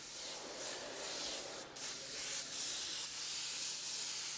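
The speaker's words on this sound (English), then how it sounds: "spray a nice even layer of pearl on there" An airbrush sprays pearl paint onto a Hummer in a continuous, even hiss that holds steady with only a brief dip midway, close and alone.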